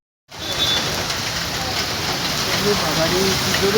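Heavy rain pouring down outdoors, a dense steady roar of drops on surfaces that starts abruptly after a brief silence and stays loud and close throughout.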